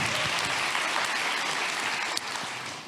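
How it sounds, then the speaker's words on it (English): A convention panel audience claps in a brief, fairly faint burst of applause that holds steady for a few seconds, with no talking over it. "Yeah, give applause."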